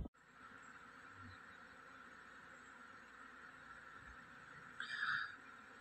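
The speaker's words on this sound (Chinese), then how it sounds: "三先生，用了你的蜂蜡来蜂了，今天好多啊，已经进去很多了。" Asian honey bees gather at a bait hive rubbed with old rough beeswax. Their soft, steady buzzing drones quietly throughout and swells briefly near the end as bees fly close.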